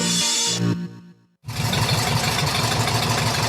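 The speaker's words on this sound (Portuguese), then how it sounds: "Se você trabalha na zona rural, certamente reconheceu o som desse trator." A tractor engine runs steadily on a farm, a loud low rumbling drone with a brief drop-out near the start before it resumes at full volume.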